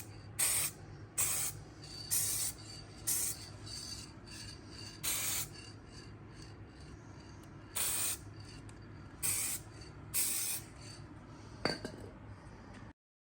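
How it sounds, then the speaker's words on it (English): Short hissing bursts of KBS Glossy Diamond Finish clear coat sprayed from an aerosol can onto a freshly painted swing arm bracket, about ten separate sprays with pauses between them, over a low steady background hum. "after we got done spraying that swing arm bracket"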